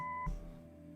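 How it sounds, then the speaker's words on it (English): An answering machine beep in the Kathy Rain video game sounds once, a short steady electronic tone at close range, then cuts to a low hum of quiet room noise. "Leave a message after the beep."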